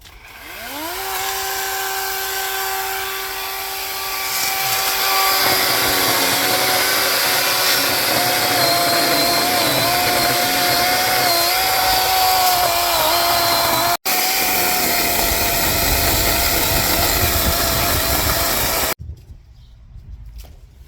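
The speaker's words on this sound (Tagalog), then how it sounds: "Dito na si Kuya Mike naglalagari." Power saw cutting through roofing material during a home roof replacement: a loud, sustained whining drone with shifting pitch that runs for most of the clip, briefly breaks, then stops near the end.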